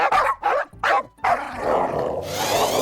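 Family dogs bark at an RC car, three sharp loud barks in quick succession followed by a longer yelping whine and a mechanical whir close by.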